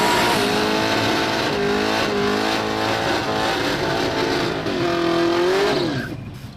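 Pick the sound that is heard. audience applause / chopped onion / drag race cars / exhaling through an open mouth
drag race cars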